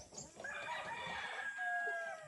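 A rooster crows nearby in one long drawn-out call, with faint clucking around it and no speech.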